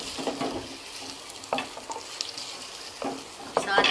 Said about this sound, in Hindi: सबसे पहले हम इसमें डालेंगे ज़ीरा, ताकि ये थोड़ा सा भुन जाए